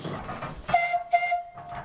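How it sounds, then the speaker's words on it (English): A wood-fired steam donkey engine at a sawmill gives off a sustained whistle tone broken by loud hissing bursts of steam, heard fairly close. "this steam engine operates essentially by a wood fire boiling a steep kettle full of water, creating steam"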